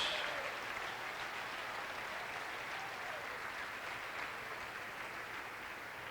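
A church congregation applauds steadily at a moderate distance during a Spanish-language sermon, a dense wash of clapping that fades slightly toward the end, with no talking.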